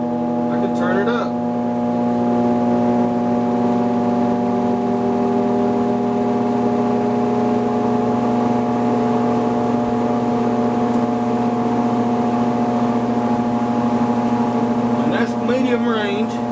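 A shopmade cyclone dust collector, turned up to higher power, gives a loud, steady motor-and-blower drone with a strong tonal hum that holds unbroken throughout.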